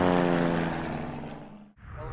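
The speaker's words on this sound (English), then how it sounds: "The airplane flies beautifully. I love flying this airplane." A small propeller airplane's engine drones steadily at high power during takeoff, a close and loud tonal hum that dips briefly near the end before resuming.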